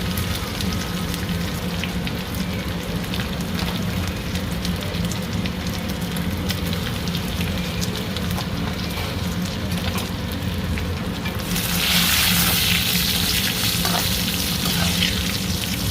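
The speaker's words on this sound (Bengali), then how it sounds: "ওর মধ্যে দেবো এই বারিক চুনো মাছ" Small chuno fish fry with thick kochur loti (taro stolons) in hot oil, a loud, dense, close crackling sizzle like heavy rain that swells brighter and louder near the end.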